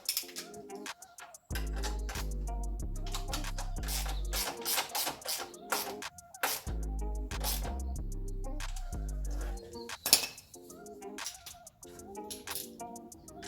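A spanner and socket work a nut and bolt on a watch frame, giving scattered close metallic clicks, ratcheting ticks and clinks in uneven bursts with short pauses between them.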